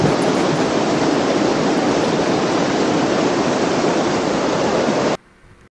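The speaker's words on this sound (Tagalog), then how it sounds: "nasa paanan na kami ni Tikip Falls" Tikip Falls roaring from its base, a loud, steady, dense rush of falling water that fills the whole clip before cutting off abruptly near the end.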